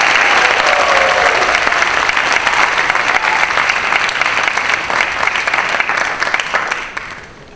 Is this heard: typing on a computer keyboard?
no